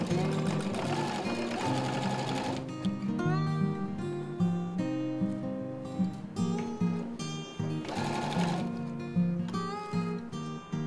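A sewing machine runs in bursts stitching along a marked line on fabric for a panettone holder, its motor whirring loudly with clicky pauses and restarts between runs.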